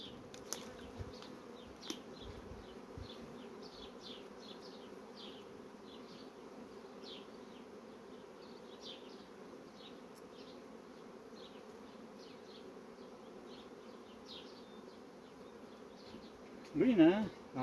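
Honey bees buzz steadily around an open hive while frames are lifted and moved during queen-cell work for splitting a colony into new swarms, a dense continuous drone with faint handling knocks and a brief louder rustle near the end.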